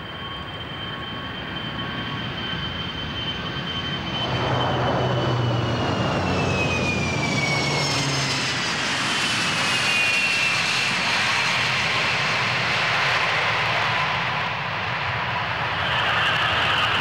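Jet aircraft engine roaring near Hong Kong's international airport by the harbour, a loud sustained whine and rumble that swells midway as the plane passes close and stays strong to the end.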